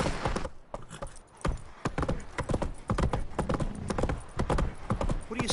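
Roach, a horse in the video game Witcher 3, gallops with quick, rhythmic clip-clopping hoofbeats throughout, close and steady, with a faint breath or snort mixed in.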